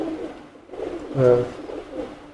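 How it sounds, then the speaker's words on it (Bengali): A single close coo from an adult male Teddy pigeon swells briefly in the middle, preceded and followed by soft murmuring sounds, with faint talk in the background. "এই যে নর কবুতরটা দেখেন"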